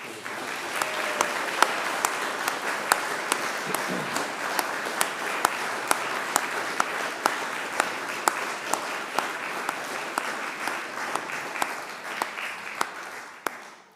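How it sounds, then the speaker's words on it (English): Sustained, warm applause from a lecture audience at an evening talk, steady and even for about fourteen seconds with scattered sharper individual claps, fading out at the end. "just give Michael another very warm round of applause"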